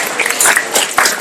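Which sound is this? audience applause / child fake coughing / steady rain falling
audience applause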